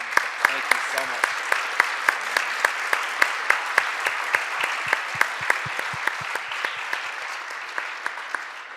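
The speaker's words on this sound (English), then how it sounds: "So I'd love to give you guys all just a round of applause." Steady audience applause at a summit session fills the whole stretch, with many hands clapping in a dense, even rhythm that holds at a fairly constant level.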